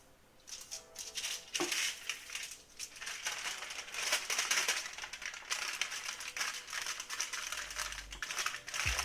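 Tinfoil crinkles and crunches while being wrapped into foil packets of venison. Close, busy bursts of rustling and crackling come in uneven waves, louder in the middle, with a brief thump near the end and no talking.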